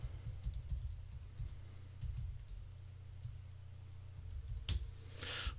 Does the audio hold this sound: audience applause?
no